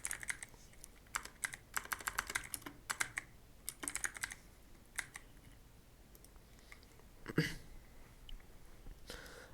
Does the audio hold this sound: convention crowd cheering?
no